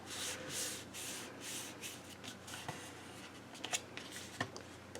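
A scored paper sheet for a mini album is folded by hand, giving soft rustling and rubbing close by, followed by a few sharp creasing crackles toward the end.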